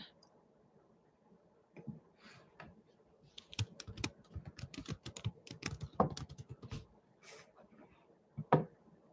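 Fingers type on a computer keyboard in a quiet room, a soft irregular patter of key clicks in short bursts with pauses between, close and fairly faint.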